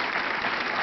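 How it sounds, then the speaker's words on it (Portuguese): A television studio audience claps briefly, a dense burst of applause on a couple's introduction to the show, steady and close, with no talking. "Uma salva de palmas."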